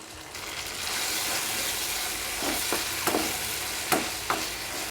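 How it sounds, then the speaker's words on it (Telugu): Tamarind, cumin and curry leaves frying in a pan with tomatoes for chutney, a close, steady sizzle with a few sharp spatula scrapes and stirs near the end, and no talk. "కరివేపాకు కూడా వేయించుకోవాలి"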